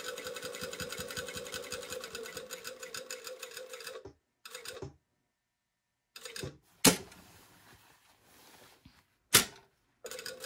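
An industrial sewing machine topstitches fabric in a fast, even mechanical rattle for about four seconds, then falls silent, followed by a few short bursts of stitching and sharp clicks.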